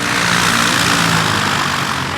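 A propeller plane coming in to land drones loudly and steadily overhead, a broad engine hum that eases slightly as it passes, with no talk.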